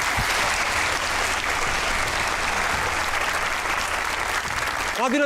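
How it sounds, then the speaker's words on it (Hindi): Studio audience applause for Gilani on a Pakistani talk show, a loud, dense wash of clapping held steady for about five seconds before a voice cuts in at the end. "ताली होनी चाहिए गिलानी साहब की"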